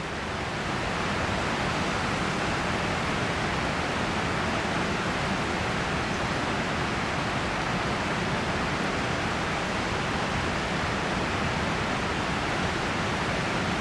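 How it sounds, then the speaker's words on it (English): Strong wind roars around a Cabela's XWT 12x12 tent during a weather test, a dense, unbroken rushing noise that stays loud and steady throughout with no voices. "Let's see if you can hear that wind outside."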